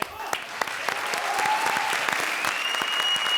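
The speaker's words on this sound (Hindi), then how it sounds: "जोरदार तालियां हमारे लिए." Studio audience at a comedy show bursting into applause, a dense burst of clapping that builds quickly and holds steady for a few seconds, with some sharper individual claps near the front.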